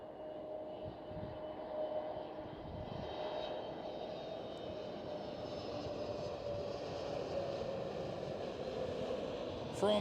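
An EasyJet airliner at Amsterdam Schiphol makes a distant, steady engine drone with a faint whine, holding at moderate level and swelling slightly toward the end.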